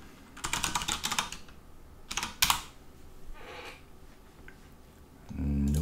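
Quick bursts of clicking keys on a computer keyboard as login details are typed in, close and quiet, with short pauses between runs of keystrokes.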